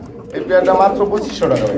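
A pair of large Bombay pigeons coo close by in a loud, throaty, rolling bout that pauses and then resumes.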